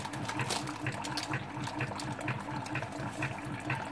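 A Keurig machine dispenses hot water for tea in a steady, continuous pouring gush with a faint pump hum underneath, close by and without talk.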